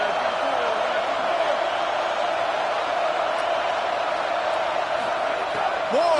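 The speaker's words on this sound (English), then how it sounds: "Listen to this crowd just shaking the girders of this place" Stadium crowd roaring at an Oregon at Ohio State college football game, a dense, sustained wall of noise filling the space evenly, with a commentator's voice riding over it.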